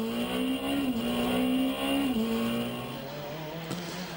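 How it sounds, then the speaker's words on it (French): Rally car at full power on a stage of the 1000 Miglia rally, engine roaring loud and steady with a falling pitch as it passes close by, then easing slightly as it moves away. "Passage d'Albertini, tout en force."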